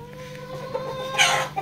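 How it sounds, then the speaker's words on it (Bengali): Farm-raised parent chickens clucking nearby, a few short calls over a steady low background hum, with one louder squawk near the end. "আর এখানে হচ্ছে এগুলা ফার্মি মুরগি প্যারেন্টস দেখতে পাচ্ছেন"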